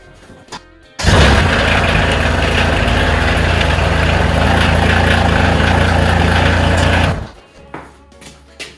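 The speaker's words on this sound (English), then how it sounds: "I'm gonna drive the tractor forward" A Kioti CK2610 compact tractor engine revs up and drives forward, a loud, steady, buzzing drone held close for several seconds before cutting back to quieter idle and clatter.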